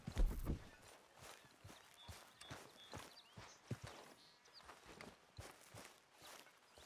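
Horse hooves walking at an easy pace in the Red Dead Redemption 2 video game, soft irregular clip-clop steps with faint ambient game sound and no talk.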